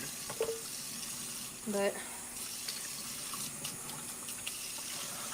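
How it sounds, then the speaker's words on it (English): A kitchen faucet runs in a steady hissing stream in the background while someone talks over it. "That water's too loud."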